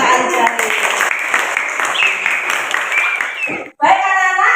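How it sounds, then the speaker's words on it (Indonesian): Schoolchildren in a classroom clapping for their classmates after a group discussion presentation, a quick burst of many small hands with children's voices mixed in, then a brief pause and more chatter. "Kita kasih tepuk tangan dulu buat teman kita aja."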